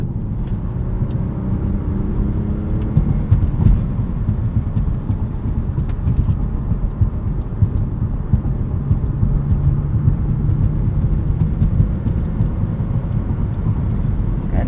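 A 180k-mile 2000s W204 Mercedes C300 with a 5-speed manual and air suspension cruising on the street, heard from inside the cabin as a steady low engine and road rumble throughout, with no sharp changes.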